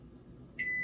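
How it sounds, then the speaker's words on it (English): A kitchen timer going off while goat's milk mozzarella is being made at home, a single steady beep starting near the end over faint room noise. "there was my timer"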